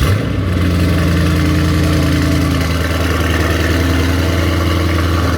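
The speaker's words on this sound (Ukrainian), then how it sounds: "це про звук, про шикарнючий звук, який нам дають великі двигуни" Mercedes-AMG E63 S Edition 1 big engine idling close up, a loud, steady deep burble with a brief blip at the start and a slight shift in tone midway, no voices.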